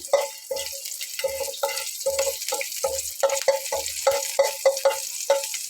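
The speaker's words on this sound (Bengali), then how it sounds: "তেলটা গরম রয়েছে তার ভিতরে আমি এখানে রসুনের কোয়াটা" Garlic cloves fry in hot oil while being stirred, making a sizzle broken by repeated scraping and clinking strokes at an uneven rhythm, close by with no talk.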